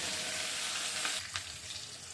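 Potatoes frying in a pan of oil, a close, even hissing sizzle with a couple of brief stirring scrapes, no voices.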